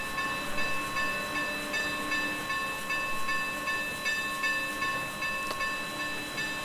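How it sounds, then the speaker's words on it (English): A sped-up steam locomotive bell from a K&L Norfolk and Western 4-8-0 Mollie in the Trainz 2019 game rings in a fast, steady, continuous peal with bright sustained tones throughout, close and alone. "This one has the sped up bell sound."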